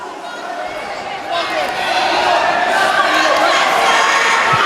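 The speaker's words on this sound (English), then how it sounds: "The crowd screaming for their fighters." MMA fight crowd at Reps Retribution 3 roaring and screaming for their fighters, a dense, continuous wall of cheering that swells louder after the first second and holds steady.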